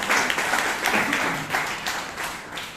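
Brief, moderately loud round of applause from a Bangalore Toastmasters meeting audience, many hands clapping steadily in a room for a few seconds, then tapering slightly.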